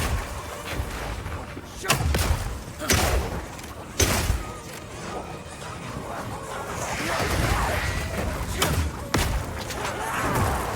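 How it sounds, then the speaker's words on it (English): Oil grenades fire in the Path of Exile 2 video game as a series of heavy thumps and bursts, spaced irregularly over a rumbling, swirling game background. "Firing one of these grenades coats the ground and nearby enemies in oil."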